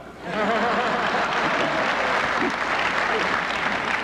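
Crowd applause at a 1978 political rally in Minnesota, swelling quickly into a loud, sustained roar of clapping with voices cheering and talking underneath.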